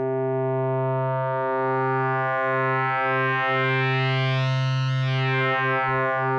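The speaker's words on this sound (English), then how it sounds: "as I turn up the timbre knob, we're going to get some increasingly aggressive wave folding" A steady synthesizer sine tone starts smooth and grows steadily harsher and buzzier as wavefolding distortion from an analog oscillator thickens it, continuous and loud with no pauses.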